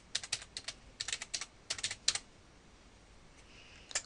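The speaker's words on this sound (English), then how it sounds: "go to Google and type in FTP client" Someone types on a computer keyboard nearby in several quick bursts of crisp key clicks, separated by a pause, with a few more taps at the end and no talk.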